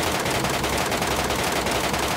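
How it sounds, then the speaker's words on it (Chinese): Rapid automatic gunfire in a battle royale video game rattles in a dense, continuous burst, loud and close, with no voices over it. "左边有枪声"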